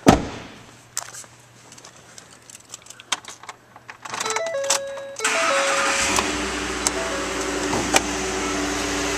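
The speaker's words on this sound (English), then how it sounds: "Now we'll go start up this Ford." A 2010 Ford F-150 SuperCrew XLT 4WD pickup truck starting up: quiet clicks and key sounds, then a chime and a cranking whir before the engine catches and settles into a steady, close idle, with no talking.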